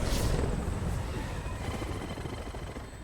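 A helicopter in flight in the Resident Evil 6 video game gives a steady, loud engine and rotor roar that fades slightly over the span, with no talk.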